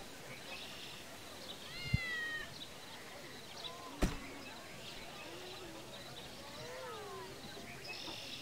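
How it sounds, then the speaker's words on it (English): A cat meowing in the video game TERA, a couple of short rising-falling meows over a faint ambient bed with bird-like chirps, punctuated by two sharp clicks. "I hear a cat."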